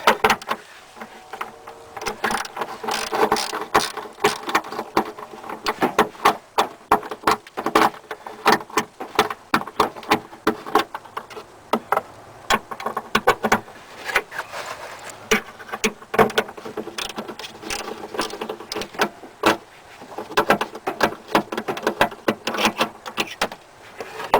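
Bolts and nuts are tightened by hand while installing a Dodge Dakota PCM computer, producing a long stretch of close, irregular metallic clicks, rattles and ratcheting taps with brief pauses, without talk.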